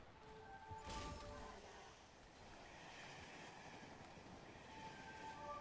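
A train in a video game rumbles past as a steady low rolling rush that swells and fades, with a brief clanking burst near the start.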